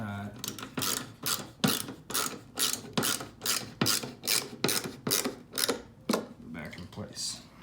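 A screw is driven to fasten a Jeep Commander third brake light back in place, a close, steady run of rhythmic ratcheting clicks from the hand tool repeating about twice per second.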